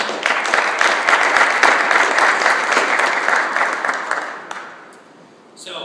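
A conference audience applauds its panelists with dense, loud clapping that holds steady for about four seconds and then fades out to near quiet.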